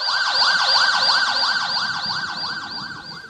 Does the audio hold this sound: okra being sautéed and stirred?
no